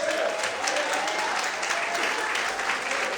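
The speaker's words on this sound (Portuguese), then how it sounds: "abre a sua boca e glorifique e aplauda o Senhor bem forte nessa noite" Steady applause from a church congregation at a night service, dense and sustained throughout with faint crowd murmur mixed in.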